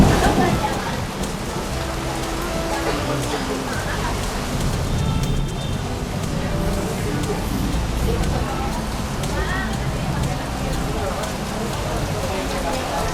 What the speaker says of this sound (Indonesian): Wow, hujannya semakin menjinak.